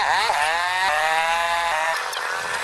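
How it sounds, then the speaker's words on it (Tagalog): A motorized tricycle engine runs close by with a steady, rattling whine whose pitch rises and falls, loud and continuous with no talk over it. "Yan talaga yung tunog ng tricycle."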